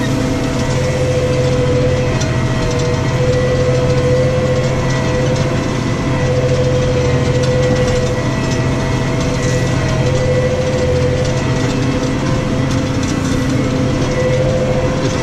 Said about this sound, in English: Going uphill this tractor, it's just struggles a bit going up here.